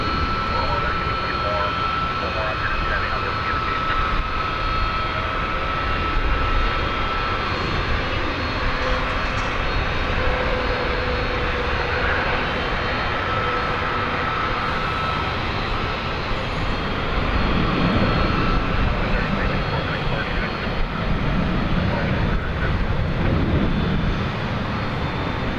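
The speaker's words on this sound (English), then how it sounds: "here comes American Flight 8" An American Airlines jet airliner, Flight 8, roars steadily at DFW Airport as a loud, continuous broadband engine rumble that holds for the whole stretch, with people talking over it.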